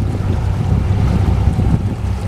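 A steady low rumble of a boat motoring offshore on flat, windless sea, with constant engine drone and water noise close to the microphone throughout and no talk.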